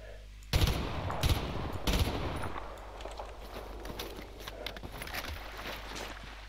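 Repeated gunfire in the video game S.T.A.L.K.E.R. Anomaly: a few loud bursts of automatic fire up front, then scattered quieter shots and rattling over a steady low rumble.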